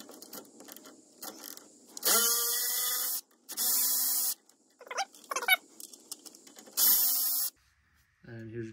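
Ratchet loosening a 10 millimeter bolt from a bracket on a Lexus GX470 during a lift kit and front end job, with several short bursts of clicking separated by quiet pauses and small handling noises.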